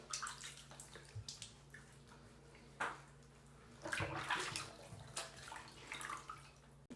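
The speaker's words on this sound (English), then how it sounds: "可是现在我就用热水敷一下脸这样子" Hot water splashing and trickling in a sink or basin while a face is warmed with a compress, with soft drips and intermittent louder splashes close by, no talking.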